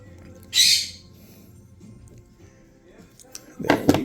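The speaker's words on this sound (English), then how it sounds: "Our parrot is making a lot of noise." A pet parrot squawks indoors: one loud, harsh call, then a quiet pause with faint handling noise, then a second squawk near the end.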